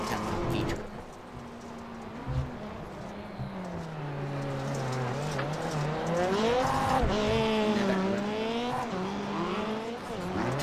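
Rallycross race cars in a sim racing game at Daytona RX warm up, engines droning and rising in pitch through shifting revs with some tire noise, continuous under commentators' talk.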